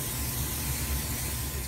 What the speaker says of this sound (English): I wanna give it a nice generous spray with cooking spray so my finished pretzels don't stick.